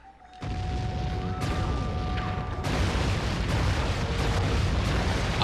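A charged cannon shot in Sly 3 fires from a rowboat with a deep boom, and further booming blasts follow amid continuous rumbling game noise that builds toward the end.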